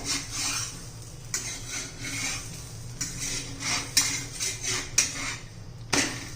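A besan chilla is flipped in a pan, with several close scrapes, taps and clinks of utensil on metal at irregular intervals over a low background hum.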